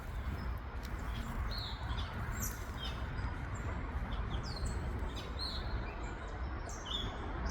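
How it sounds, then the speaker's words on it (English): Birds chirp in a forest by a riverway: scattered high, thin calls ring out over a steady wash of background noise, fairly faint and overlapping, with no talking. "They're having a big conversation and we're chilling."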